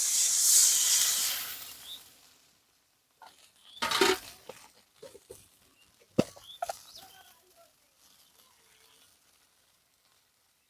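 Water poured into a hot pan of curry with potatoes, bitter gourd and egg sets off a loud burst of sizzling hiss that fades within about two seconds, followed by scattered clinks and light bubbling.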